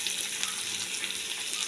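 Vegetables frying in a pan give off a dense, even hiss and crackle that stays steady and close throughout, with no voices.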